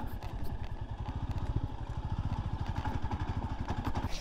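A scrambler motorcycle engine chugs in a fast, steady rhythm with clattering, held at a constant pace while riding along a rough trail with ditches.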